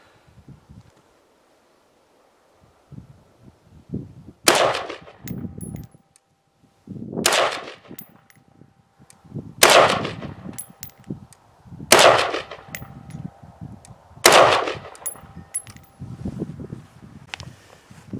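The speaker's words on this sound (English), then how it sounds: "since I'm only shooting half the shots to save ammo" Five sharp rifle shots fired offhand at targets with a Weaver V3 optic set to 1x, spaced a few seconds apart outdoors, each crack followed by a brief echo, with rustling and handling noise between shots.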